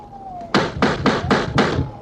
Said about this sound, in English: Knock on the door, Terry